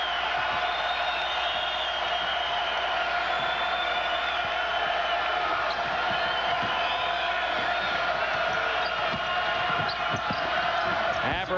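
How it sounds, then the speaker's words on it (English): A packed crowd at a 1996 Oklahoma at Kansas State college basketball game roars continuously in the arena, a steady wall of cheering with faint ball bounces and shouts beneath. "Abercrombie quiets the crowd."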